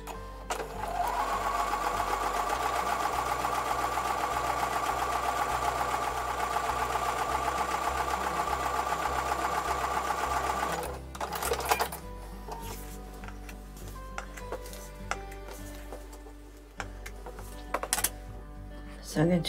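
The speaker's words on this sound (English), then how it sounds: "I'll take those over to the sewing machine" A sewing machine stitching quilt block pieces runs in a fast, even whir for about eleven seconds, then stops, leaving quieter handling clicks and rustles.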